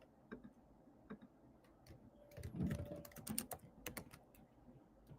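Typing on a computer keyboard, a quick irregular run of close, crisp key clicks with a short burst of faster strokes in the middle, faint and without talking.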